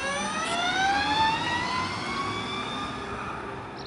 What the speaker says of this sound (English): Acceleration's quite strong in the electric traction mode.